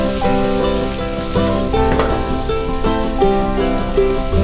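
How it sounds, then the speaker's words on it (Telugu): Half a kilo of chicken pieces frying in a pan for a buttermilk curry, a steady close sizzle with bright crackling and irregular spatter pops running through the whole stretch, no voices. "మనకి చికెన్ కూడా బాగా ఫ్రై అయిపోయింది."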